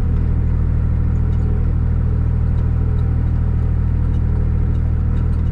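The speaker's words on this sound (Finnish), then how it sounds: "vähänkin kun on mäkkeä, niin kyllä se suttii tyhjää tämänkin koneen pyörät" A snow plow machine clearing first snow struggles on a slope, its wheels spinning without grip over a steady, loud engine drone and whirring that holds constant for the whole stretch.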